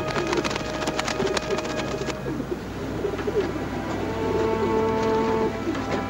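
Pigeons coo softly amid a rustling, rain-like patter, with scattered sharp clicks early on and a steady low background hum throughout, and no talking.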